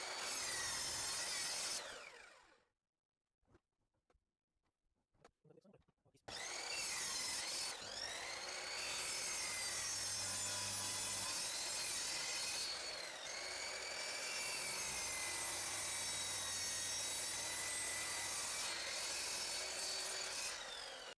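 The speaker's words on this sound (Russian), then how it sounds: "Вырежем этот шестигранник на торцовочной пиле." A miter saw cuts a wooden hexagon with a loud, harsh whine and rasp. A short near-silent pause splits the first cut from a long second pass.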